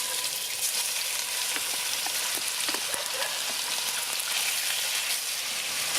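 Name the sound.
coconut oil heating and sizzling in a restored dutch oven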